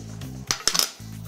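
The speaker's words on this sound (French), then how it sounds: "Je pose mes cercles dans l'huile." Metal cooking rings clink down one after another into a hot oiled pan for crab cakes, a few sharp ringing taps set between a low steady hum.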